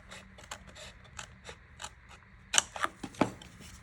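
Scissors cut through a recycled cardboard box, a quiet scrape early on giving way to a cluster of four or five sharper snipping crunches near the end, close and with no voices.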